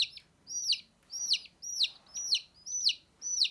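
Chicks being fed by hand cheep in a regular series of about seven high, bright chirps, fairly close and clear, with a quiet background and no talk over them.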